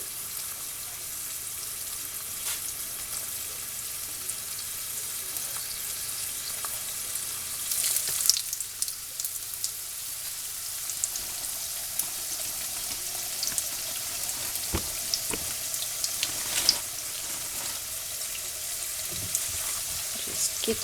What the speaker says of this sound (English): Get my tortillas going in my too hot oil.